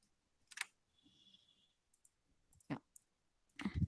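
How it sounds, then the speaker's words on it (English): Typing on a computer keyboard, a few scattered bursts of close, crisp key clicks separated by pauses in a quiet room. "So now you have to type the program here."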